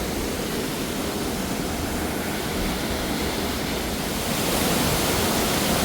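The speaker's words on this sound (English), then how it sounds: "That's the same waterfall." A waterfall in Sapadere Canyon roars as a dense, steady rush of falling water, loud and continuous throughout, with no voices.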